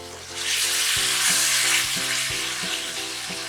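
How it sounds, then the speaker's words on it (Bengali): Chicken breast sizzles steadily in a hot pan, a loud continuous fry with a few clacks of a utensil as the pieces are turned. "এইভাবে চিকেনটা ঘুরিয়ে ফিরিয়ে ভাজতে হবে।"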